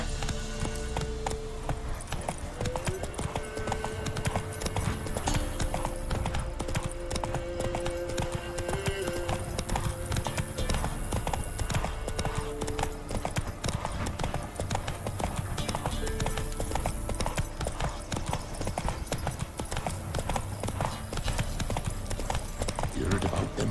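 The horse Roach clip-clopping steadily on its hooves in The Witcher game, an even close rhythm that runs the whole time, with a brief whinny and game talk layered in.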